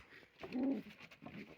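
A pouter pigeon coos once in a low, rounded burst near the middle, close by, with faint rustling before and after.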